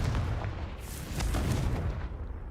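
A Confringo fire spell blasts out in Hogwarts Legacy, a muffled fiery boom that swells and fades over a couple of seconds with a rumbling, explosive tail.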